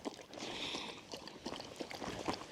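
Continuous wet lapping and gurgling as three dogs drink from a shared water bowl at a campsite, close and steady with small splashy peaks.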